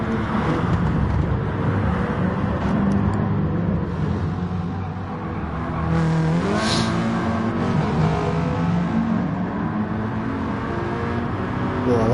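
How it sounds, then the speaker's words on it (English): Volkswagen race car engine in a PS4 racing video game, a steady loud motor drone with shifting pitch as cars battle for position, continuous throughout with a brief dip midway. "Oh, I like the sound of that Volkswagen in Mailer's car, sounds really nice"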